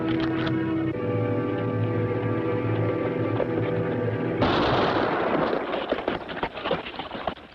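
A sharp gunshot bursts in over a Western scene, cutting into sustained music and followed by a rough, crackling tail of noise and clatter.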